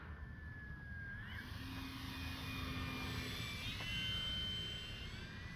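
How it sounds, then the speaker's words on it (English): A Kavan Bristell B-23 scale RC model plane drones overhead at a distance, its steady motor whine gliding up and down in pitch as it flies, with no talking. "This is just a great flying plane right here"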